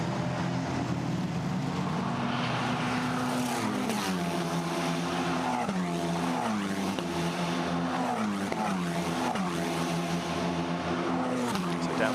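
Formula Renault Eurocup single-seaters race at Monza, their engines droning loud and continuous with rising and falling pitch as cars shift and pass, under a steady crowd-and-commentary wash.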